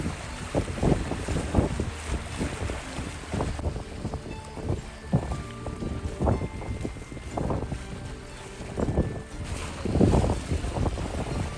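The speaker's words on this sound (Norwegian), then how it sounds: "Vinden står rett på. Cirka 10 meter i sekundet, sier de." Strong wind at sea, about 10 meters per second and blowing head-on, roars across the microphone in heavy gusts, mixed with water slapping against a boat.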